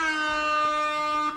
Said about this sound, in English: Air horns again